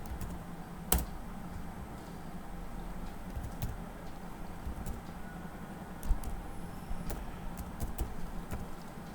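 Keys clatter on a computer keyboard as a command is typed into a terminal, sparse quiet clicks with a few sharper strikes over a low room hum.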